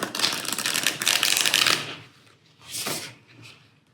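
Tarot cards are shuffled by hand: a long dense riffling burst for about two seconds, then two shorter flutters after a pause, close and fairly loud with no speech.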